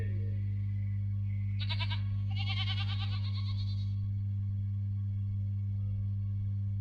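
Goat bleating in a short burst of several wavering cries, moderately loud against a steady low electrical hum, then fading into quiet hum.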